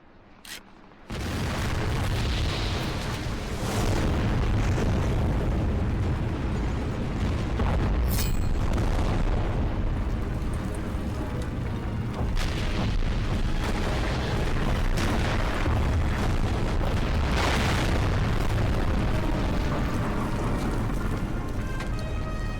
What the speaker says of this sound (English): setting charges, then narrowly escaping to watch the tower blow